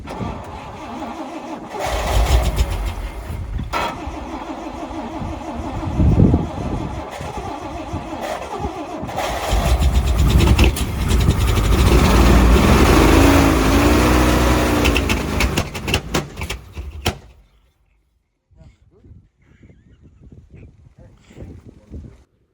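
An old International Acco 4x4 truck engine cranks and sputters, catches, then revs hard and rough for several seconds before cutting off, leaving quiet background noise with faint voices.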